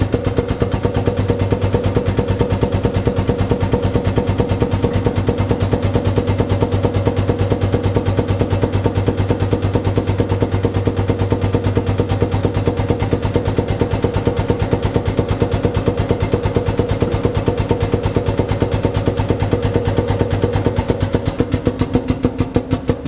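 ATEX telescopic drum rotator with power clamp lifting a drum, its motor running with a steady rapid pulsing mechanical drone, close and constant for the whole stretch before easing slightly at the end.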